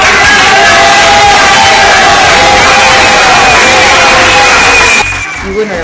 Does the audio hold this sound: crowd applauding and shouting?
yes